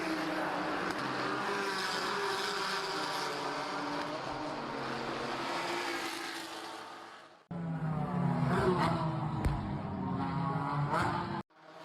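Race cars from the IMSA Michelin Pilot Challenge series lap a street circuit, making a continuous roaring engine drone with shifting pitch. It cuts briefly, then returns louder with sharper passing bursts.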